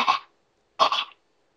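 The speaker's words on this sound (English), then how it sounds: "See? I'm coughing." A person coughs twice, a short burst followed after a pause by a longer one, close and fairly loud with silence around them.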